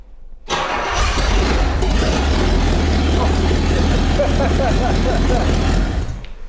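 A Rolls-Royce engine cranks and catches, then runs loudly and roughly, like a tractor, at close range for several seconds before cutting off.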